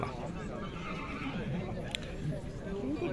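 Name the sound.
horse neighing at a livestock market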